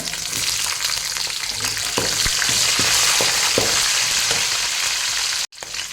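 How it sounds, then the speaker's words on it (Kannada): Curry leaves and capsicum fry in hot oil for vangibath, a loud continuous close sizzle with a few soft stirring knocks and a brief drop near the end. "ಇವಾಗ ಸ್ವಲ್ಪ ಕರಿಬೇವು ಹಾಕ್ತಿದ್ದೇನೆ ಕ್ಯಾಪ್ಸಿಕಮ್ ಹಾಕ್ತಿದ್ದೇನೆ"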